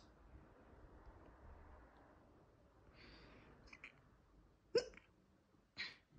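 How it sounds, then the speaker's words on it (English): A person hiccuping, two sharp, sudden hiccups close to the microphone after a stretch of soft breathy noise. "hiccups"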